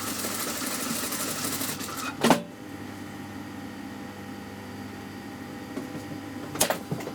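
Sewing machine stitching a trouser seam, a steady close mechanical whir running throughout, broken by two brief louder clunks.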